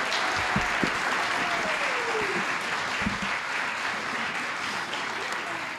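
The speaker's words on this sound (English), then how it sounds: "Give them a round of applause." An audience applauding after a youth choir performance from Labrador and Newfoundland: sustained clapping from a large crowd, with brief voices and a few cheers mixed in, tapering slightly toward the end.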